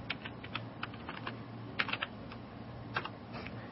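Product names are typed on a computer keyboard in quick, irregular clusters of light clicks over a low steady hum, close and alone without speech.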